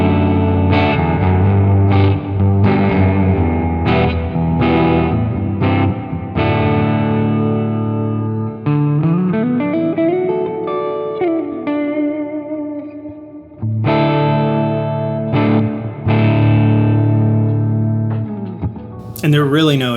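Electric guitar plays chords and single notes through a modeled Fender Super Reverb amp, warm and reverberant, ringing out with a shimmering effect throughout.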